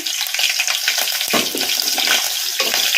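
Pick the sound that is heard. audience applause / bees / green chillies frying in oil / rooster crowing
green chillies frying in oil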